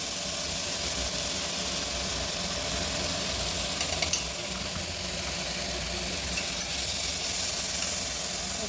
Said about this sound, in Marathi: थोडं टोमॅटो पण टाकते मी आणि थोडंसं मोठ्या फ्लेमवरच हे सगळं परतून घ्यायचं.